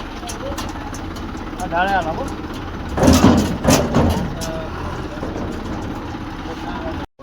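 A tractor engine runs close by with a steady, continuous low diesel rumble, briefly joined by a tonal sound and a louder surge midway, with voices now and then over it.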